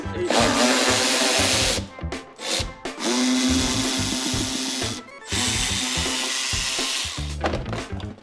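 A power tool runs in long sustained bursts with short pauses while fender liner fasteners are undone on a BMW M5, its whine loud and close and stopping and restarting several times.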